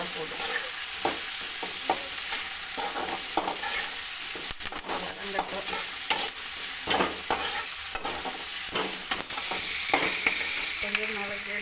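Curry leaves and tomato frying in a pan, loud continuous sizzling with repeated scraping stirs at an irregular rhythm, close up and with no talking.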